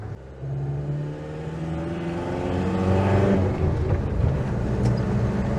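A Ford Transit Mk5 Flareside van drives over speed humps, its engine humming steadily from inside the cab and rising in pitch and loudness as it pulls along, with no one talking.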